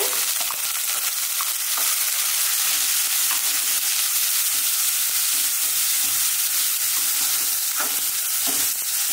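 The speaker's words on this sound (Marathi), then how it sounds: "हे बघा वाटाणा छानपैकी असं भाजून घ्यायचं" Peas and carrots fry in a hot pan with a steady, close sizzle and crackle throughout, broken by scraping stir strokes and no talk.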